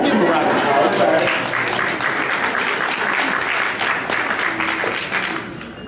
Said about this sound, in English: I'll give him a round of applause.